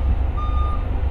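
A truck reversing while loading onto a ferry at Patras gives a single clear reverse-alarm beep over a low rumbling idle, with a faint high whine above.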